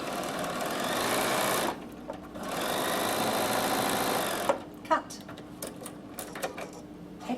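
A Bernina 7 series sewing machine stitching applique on a quilt block, heard close as two steady, whirring runs of rapid needle rattle with a short pause between, followed by clicks and handling noises.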